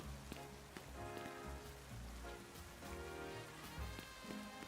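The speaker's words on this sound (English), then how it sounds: "Oh, it's raining." Steady rain patters on surfaces in the Pokémon Legends ZA video game, a continuous even wash of drops at low volume with no talk over it.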